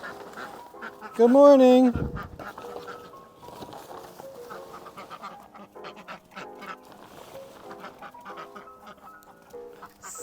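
Ducks on a property give one loud, nasal quack close by, then a run of softer, scattered quacks and clucking calls, while a man briefly greets them.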